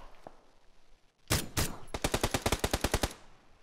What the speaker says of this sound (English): I put some shots into him, Chris.